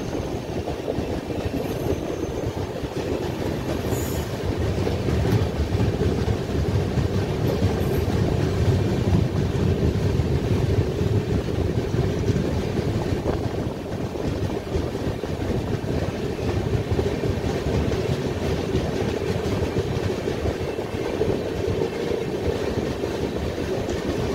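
Steady rumbling interior noise of the Jasidih Express, train 22305, running along the track in a near-empty coach, with continuous low clatter and wind-like roar throughout and no speech.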